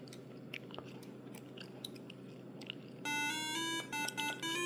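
An alarm clock starts beeping partway through, a loud, rapid electronic beeping in repeated bursts, after a stretch of quiet handling noises and faint clicks.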